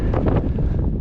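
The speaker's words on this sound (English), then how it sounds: "It's getting windy and chilly." Strong, chilly wind on a mountain trail near Mt Rose, Nevada, buffets the microphone in a steady, loud rumble that gusts slightly throughout.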